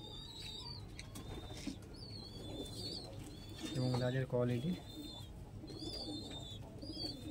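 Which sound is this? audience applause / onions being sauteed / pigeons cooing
pigeons cooing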